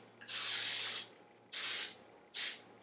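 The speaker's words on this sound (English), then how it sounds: "I've just bought some pan vegetable oil, so I'm just going to spray that" Three hissing bursts of vegetable oil sprayed from a can onto a pan, the first long and the next two shorter, sharp and close with brief pauses between.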